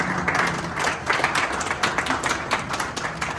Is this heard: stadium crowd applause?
yes